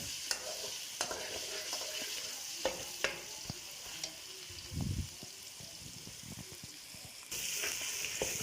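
Ginger garlic paste sizzling and crackling in hot oil as it browns, with a spoon scraping and stirring the pan now and then.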